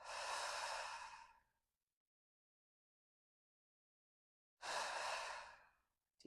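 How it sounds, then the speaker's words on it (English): Two long, deep breaths during a slow hatha yoga flow, each a smooth, close airy rush separated by a few seconds of silence. "Deep breath."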